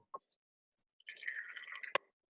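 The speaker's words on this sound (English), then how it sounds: "we're going to pour some water in, not too high" Water pours into a drinking glass at home for a tabletop refraction experiment: a short splash, a pause, then a second quiet, burbling pour of about a second ending in a final drip, faint and with no talk.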